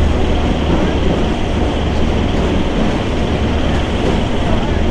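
A Kolkata–Jammu express train makes a loud, steady, close rumble of rolling wheels and carriages that holds evenly the whole time.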